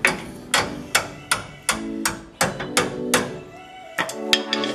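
A big hammer strikes a bolt during a 1967 Chevy Nova drag car build, a dozen or so sharp ringing metallic blows in an uneven rhythm, loud and close with no talk.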